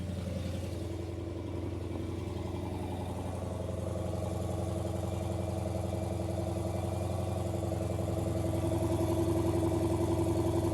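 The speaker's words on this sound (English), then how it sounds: "Let's listen to the idle from outside." A supercharged V8 in a Dodge Demon 170 idles steadily as heard from outside the car, a deep, even rumble with a faint mechanical clatter, slowly swelling slightly louder toward the end.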